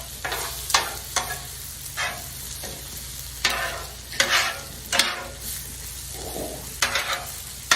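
Poblano peppers and onions on a grill, heard in bursts of scraping and stirring with a steady sizzle underneath, the turning sounds coming in irregular clusters close by and fairly loud.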